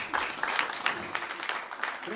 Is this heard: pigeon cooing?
no